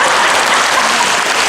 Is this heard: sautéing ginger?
no